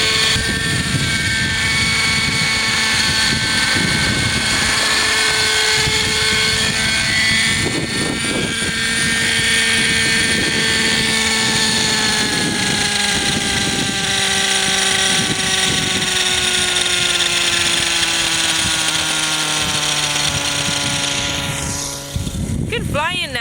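A helicopter flown by a learner pilot gives a loud, steady whining rotor and engine drone whose tones slowly sag in pitch, lasting the whole stretch with voices talking over it.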